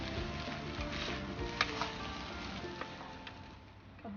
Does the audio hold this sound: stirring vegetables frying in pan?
yes